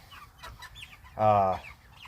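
Cornish Cross chickens cluck close by, one loud drawn-out squawk standing out among softer scattered clucks and rustling.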